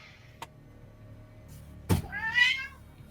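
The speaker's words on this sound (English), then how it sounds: "whose cat was that?" A pet cat named Pookie gives a single clear, rising-and-falling meow, heard close and fairly loud in a quiet room after a couple of sharp knocks.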